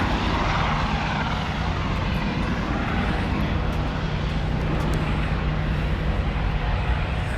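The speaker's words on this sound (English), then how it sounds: "I'm going to try to get a shot here with the helicopters" Aircraft noise over Manhattan from helicopters flying overhead, a steady, loud broadband rotor and engine drone with a low hum, continuous throughout and with no talk.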